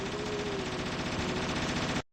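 A continuous burst of rapid automatic gunfire from an Ingram or Minini submachine gun in the Resident Evil video game, loud and dense for about two seconds before cutting off abruptly.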